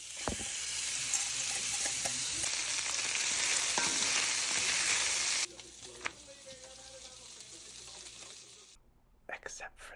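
Food sizzles on the stove with a steady, close hiss for about half the time, then drops to quieter kitchen clatter and faint handling sounds.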